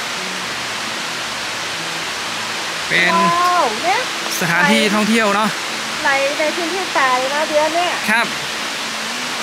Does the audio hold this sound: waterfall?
yes